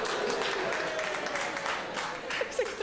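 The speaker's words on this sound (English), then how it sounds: "It's like three men clapping." A handful of men in a comedy show audience give sparse, scattered claps, thin and fairly quiet against the room's murmur, with a few sharper claps near the end.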